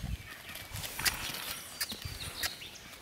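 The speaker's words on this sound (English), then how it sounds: "You're going to want to be able to back your mini from both sides." A miniature horse steps backward on its hooves, a series of irregular close clip-clops with faint background ambience and no talking.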